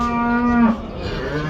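A single cow moos loudly and close at a Kyzylorda livestock market: a sustained low bellow that swells, breaks off and trails into a softer tail, with no talk.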